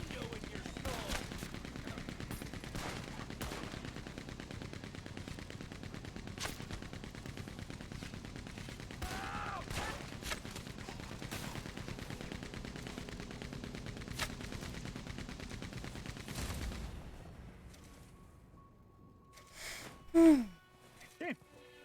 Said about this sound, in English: I got to play with the minigun